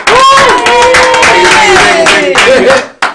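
Loud crowd applause and cheering fill the whole clip, a dense wash of clapping with whoops rising over it, cutting off sharply near the end.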